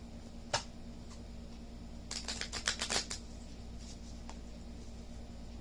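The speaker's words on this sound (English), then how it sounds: "Give it one more shuffle" Tarot cards are shuffled close by in a quiet room, a faint tap or two followed by a quick burst of riffling flicks, then a soft final snap over a low background hum.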